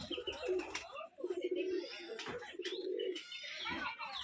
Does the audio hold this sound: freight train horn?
no